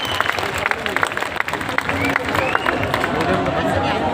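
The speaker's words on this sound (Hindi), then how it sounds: "पूरा सदन उल्लास उन्मुक्तता मस्ती के साथ जोरदार तालियां बजाकर ये काव्य यज्ञ प्रारंभ करने की अनुमति प्रदान" Audience applause at a Hindi comic poetry gathering during a Diwali fair, a dense, continuous wash of clapping from a large crowd with some chatter mixed in.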